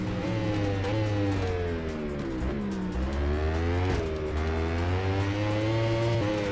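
Racing motorbikes in a video game, lighter than Moto3 class, scream along in a steady, loud, continuous drone. Several engines are layered together as a pack battles side by side into a tight corner, with pitch dips and rises through gear changes.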